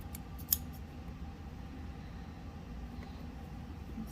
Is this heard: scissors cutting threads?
yes